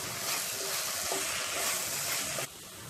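Fenugreek leaves and eggs stirred as they fry in a pan for methi egg curry, a steady broadband sizzle with light scraping that drops noticeably quieter near the end; no voices.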